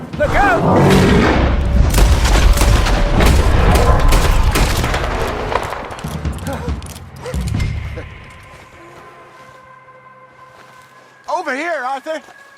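Gunfire during a bear encounter in Red Dead Redemption 2, a rapid volley of loud booming shots with game voices shouting over them, then a lull and a short burst of animal-like noise near the end.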